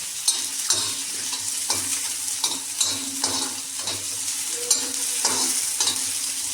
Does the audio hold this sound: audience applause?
no